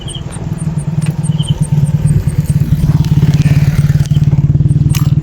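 A motorcycle runs steadily with a loud close engine drone and rhythmic clattering pulses, with a few faint high chirps above and no talk.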